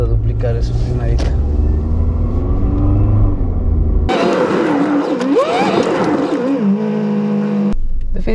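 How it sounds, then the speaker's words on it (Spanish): A Toyota RAV4 with a misfiring engine runs with a low, uneven rumble for several seconds. The sound then shifts to a noisier, rougher stretch with voices mixed in, before cutting back to quiet. "Definitivamente el motor se siente que falla un poquito porque vibra el carro"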